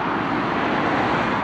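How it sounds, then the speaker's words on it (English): Continuous broadband rumble of road traffic passing near a harbour at Holes Bay while fishing, steady and moderately loud with no distinct individual vehicles. "you have to excuse the road noise"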